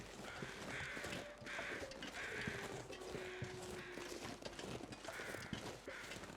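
Crows caw repeatedly in a steady rhythm of harsh calls, fairly faint and distant, over a busy outdoor ambience in the survival video game The Long Dark.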